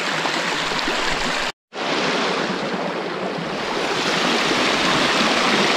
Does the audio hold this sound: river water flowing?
yes